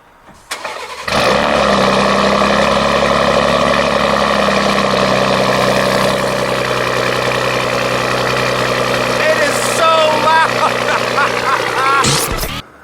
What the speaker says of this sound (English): this was of course the cold start with the catless downpipes